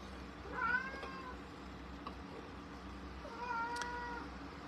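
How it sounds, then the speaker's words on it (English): Two cats shut in a room meow unhappily, with two distinct drawn-out meows a few seconds apart, moderately faint over a low background hum. "you can tell the cats are not happy. They do not like being shut in."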